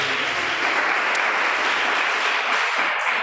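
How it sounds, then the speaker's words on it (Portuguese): A church congregation bursts into steady, full applause during a sermon, a continuous wash of many hands clapping with no voices over it. "Dê um aplauso a Jesus por isso."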